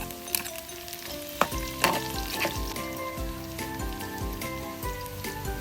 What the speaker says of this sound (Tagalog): Onion, igisa din natin ito ng mga 30 seconds.